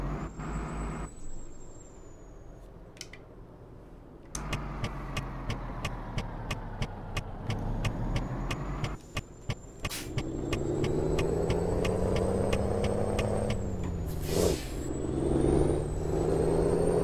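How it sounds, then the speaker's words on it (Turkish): A Ford Cargo truck driving on the road, its engine rumbling and revving hard, heard from inside the cab, with air-brake hisses and clicking ticks over a steady loud drone and no talking. "araç fena gazlıyor yalnız."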